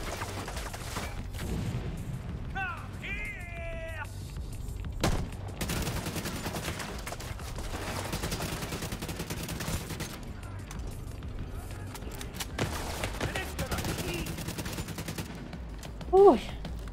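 Shotgun blasts and rapid gunfire from The Division 2 beta crack through a busy game mix, with sharp bursts scattered across the stretch and a louder boom near the end, along with music and voices.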